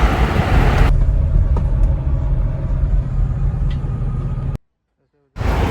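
Land Rover Defender driving slowly while hunting for a parking spot, a low steady engine and road rumble from inside the car that continues, then cuts out briefly near the end.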